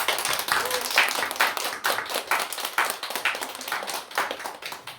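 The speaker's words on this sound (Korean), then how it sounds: "우리 최석주 안수사님 앞에 감사하다고 박수 한번 쳐주십시오" A church congregation claps together after the pastor's thanks, a dense steady patter of many hands lasting several seconds at moderate loudness, with faint voices mixed underneath.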